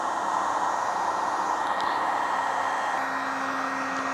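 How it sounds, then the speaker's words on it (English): A heat gun running on a portable power station gives a steady, close, whooshing blower roar with a constant whine, unbroken and free of talk. "I'm gonna turn on the heat gun"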